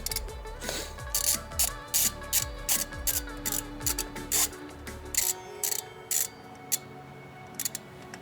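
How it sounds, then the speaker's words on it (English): A torque wrench tightens a spark plug on a BMW F30 with the B48 engine, its ratchet clicking in short, regular bursts up close. The clicks turn sparser and lighter toward the end. "then we will let the torque wrench do the rest of the work for us"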